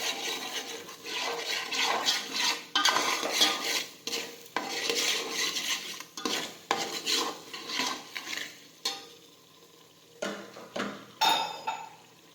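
Pav bhaji vegetables are stirred in a pan after sugar and lemon juice go in, with repeated scraping and clanking of a utensil against the metal, steady and close, no voices.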